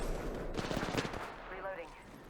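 Rapid automatic gunfire in Apex Legends during a squad fight, a quick volley of cracking shots at moderate level with game noise and a short rising tone after.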